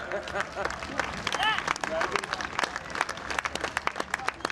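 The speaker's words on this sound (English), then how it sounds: "So how about a round of applause for all our competitors?" Spectators clapping for competitors at Seekonk Speedway after spectator drag races, scattered claps mixed with crowd chatter and voices, moderately faint and uneven, with a few sharper individual claps toward the end.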